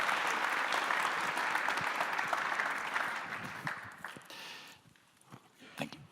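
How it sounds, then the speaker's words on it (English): Conference audience applauding in a main hall, dense sustained clapping that gradually thins out and fades to scattered claps near the end. "please give a very warm applause to Ingrid, to Mauro, and to Simon"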